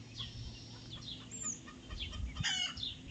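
Chickens around a village house in the rain, a few soft clucks and short calls close by, fairly faint, with no talk.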